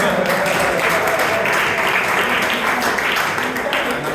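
Applause from a Toastmasters club audience after a toast, loud continuous clapping with a murmur of voices mixed in throughout.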